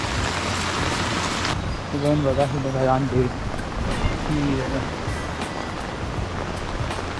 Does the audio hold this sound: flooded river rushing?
yes